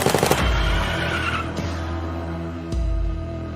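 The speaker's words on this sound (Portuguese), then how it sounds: "13 disparos são feitos." Rapid burst of gunfire from a car pulling alongside another car on a city street at night, tightly packed shots crackling at the start, then further sharp reports over a steady engine rumble.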